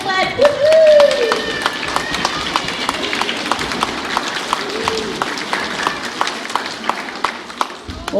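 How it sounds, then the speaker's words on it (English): A concert audience claps steadily before a children's toy symphony performance, the rapid claps running throughout alongside cheering voices and chatter. "Give him a big clap."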